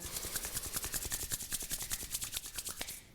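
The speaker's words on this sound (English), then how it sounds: "just bringing your hands to the heart, rubbing them together" Two palms rub briskly together near the microphone during a yoga and pilates session, a quick rhythmic series of soft dry swishes, about eight per second, that stops abruptly.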